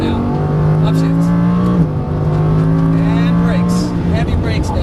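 A race car on a circuit pulls hard under power with a loud, steady engine note that climbs, drops sharply at a quick upshift about two seconds in, then climbs again, with tire and wind noise throughout.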